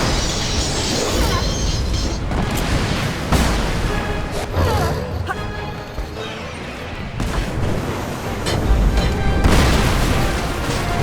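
Heavy bomb blasts in the Lara Croft and the Temple of Osiris video game, a run of loud booming bursts and crashes spread across the stretch with dense rumbling debris between them.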